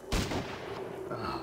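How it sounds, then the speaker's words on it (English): A short burst of gunfire in the video game Fallout Tactics: Brotherhood of Steel, a sharp, punchy volley of shots at the start followed by a fading rumble, fairly faint overall. "And that should be enough for a burst."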